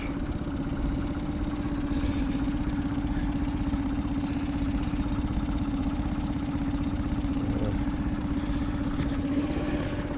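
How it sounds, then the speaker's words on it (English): A boat's engine idles steadily while warming up before casting off on a canal cruise, a continuous close, even low chugging rumble with no talk. "just warming the engine up for 10 minutes before I set off"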